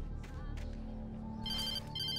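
A phone rings in the video game Alan Wake Remastered, an electronic ringtone repeating clearly over a low, steady background drone.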